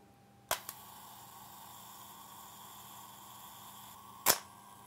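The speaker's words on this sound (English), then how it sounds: "Pull the self timer over." A Canon EF 35mm SLR film camera gives a sharp mechanical click, then its self-timer whirs with a faint steady buzz for several seconds before the shutter releases in a second crisp snap, close up in a quiet room.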